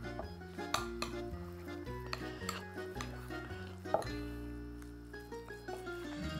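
Grated pecorino romano folded into ziti with pesto, a spoon or utensil clinking and scraping against a bowl in steady, repeated strokes with close metallic chinks.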